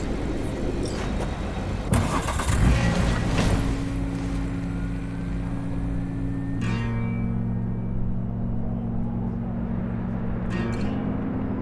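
A car engine hums steadily through a Cyberpunk 2077 drive in Night City, with a low droning rumble and some scattered background game sounds. No one talks over it.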